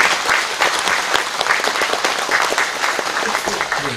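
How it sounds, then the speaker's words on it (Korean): Sustained applause from an audience at a rice seedling nursery completion ceremony, dense steady clapping throughout at moderate distance. "여러분 큰 박수 한번 부탁드리겠습니다"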